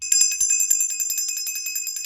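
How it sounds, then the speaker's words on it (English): A hand bell is rung to clear energy, producing a fast, continuous bright metallic ringing with a sharp tone, loud and close, repeated strokes without pause and no talking. "I'm going to go ahead and clear the energy with this bell."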